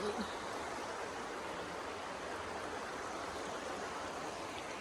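The Chattooga River rushes steadily beside a campsite, a dense, unbroken roar of flowing water that fills the scene from start to finish with no other sounds.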